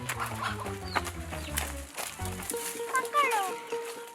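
Hens and chicks cluck in a village in Bastar while someone speaks over them, the birds' short calls scattered faintly beneath his voice.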